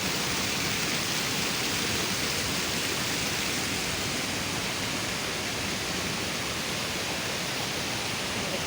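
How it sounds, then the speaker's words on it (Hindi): Rainwater from a torrential downpour in Murree pours down from the hillside into a drain, a dense, continuous rushing roar of water, loud and unbroken throughout. "यहाँ से सारा पहाड़ के ऊपर से पानी जो है ये देखिए यहाँ से आ रहा है"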